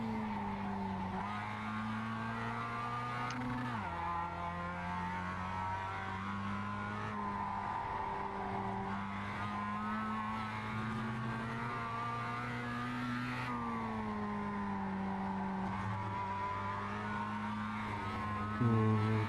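An engine drones with shifting pitch as the car is driven in the iRacing Global MX-5 Cup video game at Oran Park, and tires squeal and skid through wide corners. The sound is sustained and fairly quiet, with no voices.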